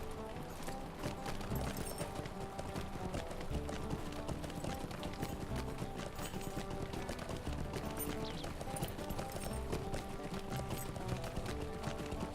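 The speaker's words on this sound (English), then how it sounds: "Get on my horse and I'll just ride north out of town." A horse being ridden in the video game Lord of the Rings Online, hooves clip-clopping in a quick, steady gallop rhythm with faint game background music underneath and no talk.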